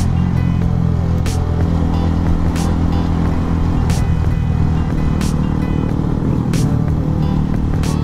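A Honda CBR150R motorcycle cruises on a road in Lemery, Batangas, its engine giving a steady drone under heavy wind rush, with a few brief clicks or bumps along the way.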